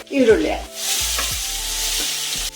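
Onion tipped into a pan of garlic and green chilli frying in oil, setting off a loud burst of sizzling with utensil clatter, then a steady hiss broken by a few scraping stirs.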